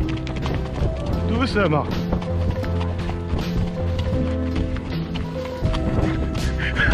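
Clip-clop of a horse's hooves on a countryside trail ride as the horse tries to trot, steady, close and continuous, with someone speaking softly over them.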